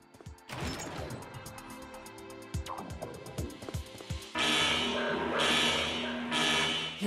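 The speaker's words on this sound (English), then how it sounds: "Alarm is sounding." Alarm sounding in the Conception 2 video game, a loud steady pulsing buzzer tone that starts partway through and keeps going over busy clashing combat effects and music.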